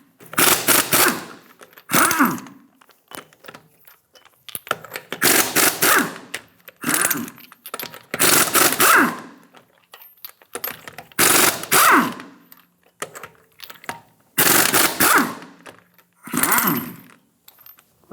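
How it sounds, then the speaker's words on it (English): A 22mm socket on a power tool spins off the six lug nuts of a 2007-2017 Ford Expedition wheel, loud buzzing rattling bursts of a second or two repeated with short gaps. "Using a 22mm socket, remove the 6 lug nuts."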